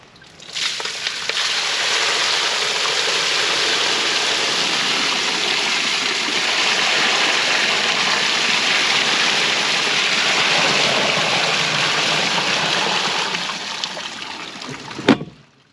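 Rainwater rushing and flowing outdoors after a heavy downpour, a loud steady broadband wash of running water that continues without a break and then cuts off abruptly.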